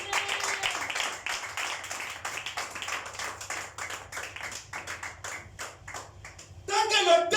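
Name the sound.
church congregation clapping and acclaiming Jesus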